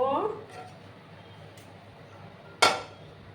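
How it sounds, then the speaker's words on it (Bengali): A pan set down on a gas stove gives a single sharp metallic clank near the end, with a faint steady hum of the burner around it. "এবার একটা প্যান আমি বসিয়ে দেব"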